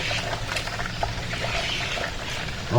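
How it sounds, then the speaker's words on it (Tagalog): Water runs from a tap into a kitchen sink during dishwashing, a soft, steady trickle and splash that holds throughout at low volume, with a faint clink near the end. "Yan yung tubig."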